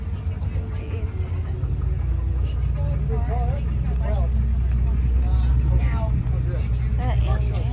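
A turbocharged 1971 muscle car at a Goodguys car show idles with a steady, deep low rumble that runs throughout, while people talk nearby over it.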